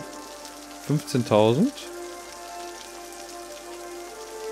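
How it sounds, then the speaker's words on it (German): Rain falling in the city-builder game Cities: Skylines while the camera is zoomed in close: a steady, soft hiss runs through the whole stretch, with someone briefly speaking over it near the start. "wenn ich nah ranzoome, höre ich Regen"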